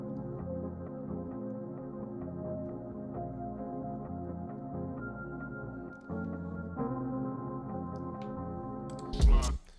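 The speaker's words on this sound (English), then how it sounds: "So that's the bossa nova sample." A steady bossa nova groove with soft, sustained chords and a low bass line plays continuously, with a brief louder clatter near the very end.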